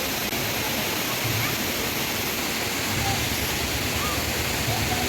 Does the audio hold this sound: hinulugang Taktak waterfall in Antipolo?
yes